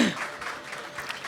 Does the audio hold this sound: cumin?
no